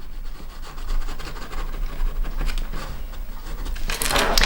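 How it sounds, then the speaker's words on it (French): Chalk or marker tracing rounded corners along the edge of fabric pieces for a sewing project: a steady, close scratchy rubbing that continues throughout, growing louder and brighter toward the end, with no talking. "je me plaque bien au bord de mes tissus et je trace mes arrondis"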